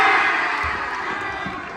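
A large football crowd cheers at a match, a dense, steady roar that stays loud for the whole moment and eases only slightly toward the end, with no clear voices standing out.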